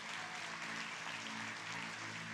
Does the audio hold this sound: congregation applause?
yes